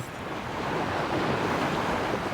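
Ocean surf crashing on a shore, a steady broadband roar of breaking waves with some wind buffeting, loud and continuous with no talk.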